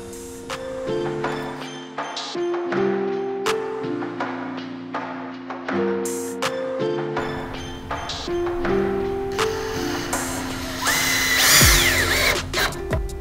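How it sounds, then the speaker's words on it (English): A power drill drives screws into a wooden dragon fruit trellis base, its motor whirring up and down in repeated bursts with steady pitch changes, close and loud, with no talking. "then we'll throw in our screws"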